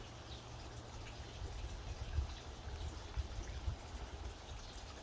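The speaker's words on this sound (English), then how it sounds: "So let's add some water." Water is poured steadily into a Tupperware cold brew coffee filter, a soft, continuous trickling stream close by with no talking.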